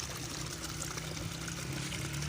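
Natural mountain spring water at Nar near Kotli, Azad Kashmir, flowing and pouring in a steady, dense rush that stays close and loud throughout with no break.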